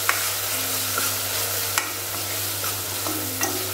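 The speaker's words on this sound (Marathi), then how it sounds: "मसाला सुद्धा व्यवस्थित शिजून घ्यायचा आपल्याला।" Masala for a peas and cauliflower bhaji fries in a pan, a steady loud sizzle and hiss with occasional spatula scrapes and taps across the base, close up and without speech.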